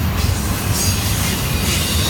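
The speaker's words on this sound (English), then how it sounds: "And here comes in the train." A Norfolk Southern freight train led by three Dash 9 locomotives rumbles steadily past at track speed in Duluth, Georgia, close by, a dense low roar with rolling wheel noise and faint high metallic squeal, no voices.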